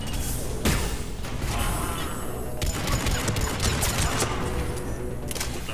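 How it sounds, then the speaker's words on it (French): A distant explosion in the video game Mass Effect 3, set on Tuchanka, comes through as a muffled boom amid continuous gunfire and crashing battle noise, loud and dense for the whole stretch. "Oh, ça explose loin."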